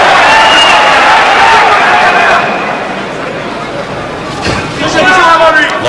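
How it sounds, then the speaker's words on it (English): A French boxing crowd roaring and applauding during a fight, loud broad crowd noise that eases off midway and then swells again, with a commentator talking over it. "Every punch, if it lands or not, will be applauded by their French"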